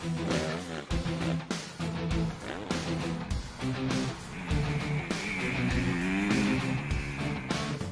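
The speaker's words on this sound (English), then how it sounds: "The bikes we got are 250 CRF Hondas, which is like absolutely ideal for this stuff." Honda CRF250R 250cc dirt bikes ridden on a motocross-style practice track, with continuous engine whine that rises and falls with throttle changes, loud and close throughout.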